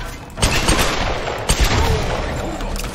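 Gunfire from a weapon in the game Tomb Raider comes in sharp, loud bursts. Sustained firing starts about half a second in and runs on with repeated cracks and booming impacts.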